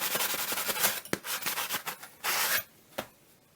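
Sandpaper rubbing over a knife blade being modified, with quick rasping strokes in uneven bursts, close and fairly loud, ending in a few short separate scrapes.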